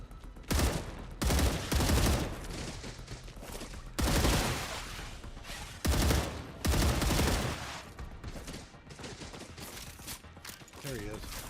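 Video game gunfire in StarRupture: repeated loud bursts of automatic fire in several separate volleys, each a second or two long, with quieter mechanical clatter in between and a voice speaking briefly.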